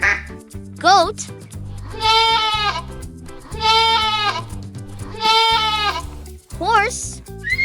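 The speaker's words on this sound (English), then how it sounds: "Goat." A goat gives three long, quavering bleats, loud and near, over a cheerful children's tune, with short sung voices before and after.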